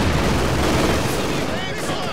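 Machine guns in the video game Company of Heroes 2 fire in dense continuous bursts mixed with explosions and battle noise, loud and close, with a person talking over the gunfire.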